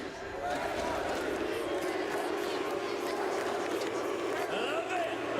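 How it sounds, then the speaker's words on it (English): A large crowd at a Valorant esports championship final in Paris chants "NRG", a loud, continuous roar of massed voices with rhythmic swells throughout. "You want to start an NRG chant right now?"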